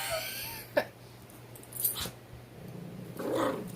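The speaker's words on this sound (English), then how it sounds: "The dogs are over here playing next to me." Dogs playing close by, with a sharp short growl or yelp near the start and rougher scuffling growls midway and toward the end, all fairly quiet over a low steady background hum.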